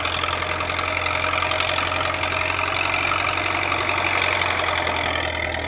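The diesel engine of a rebuilt Caterpillar D4 bulldozer runs steadily as it fills in a ditch, a constant mid-distance rumble with a slight knock, with no voices.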